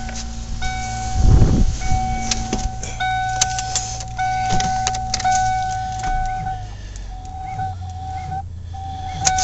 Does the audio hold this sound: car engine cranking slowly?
yes